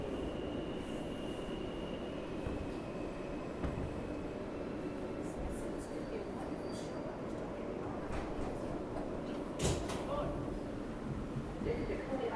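An R160B Alstom subway car on an F train at Clinton-Washington Avenue, with a loud steady rumble of the train and station, faint door and wheel sounds, and a recorded announcement voice over the noise.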